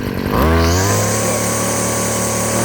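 A Stihl FS 56 RC weed eater engine catches and revs up quickly into a loud, steady, buzzing two-stroke idle that holds close and constant with no talk.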